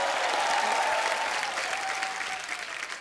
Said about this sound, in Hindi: जोरदार तालियां करण सर के लिए